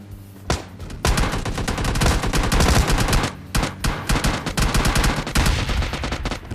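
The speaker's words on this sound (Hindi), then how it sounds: "इस वाले घर से काफी कमाल का कवर फायर देता है।" Rapid bursts of gunfire in PUBG Mobile Lite, loud and dense, with repeated automatic volleys and brief pauses between them, no talking.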